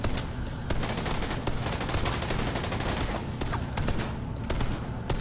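Heavy gunfire in The Division 2, a shooter game: a steady, loud stream of rapid shots with sharp blasts standing out, close and continuous with no talking.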